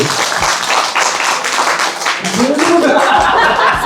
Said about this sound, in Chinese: 朋友们，来，咱们掌声鼓励，放到嘴里